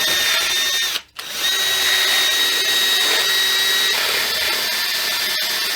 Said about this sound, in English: I go slowly with my movement, but fast with the drill